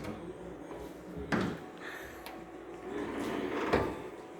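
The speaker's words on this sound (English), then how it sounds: "I'll open up the hood here and show you that." The hood of a 1968 Camaro drag car is opened, with a couple of close metallic clunks and a creaking latch release against a quiet outdoor background.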